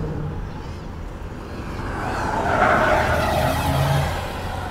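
A Seat Tarraco with a 190 hp dual-clutch gearbox pulls away on a lap-timing run, its engine note swelling and rising from inside or nearby, with faint tire noise and no talk.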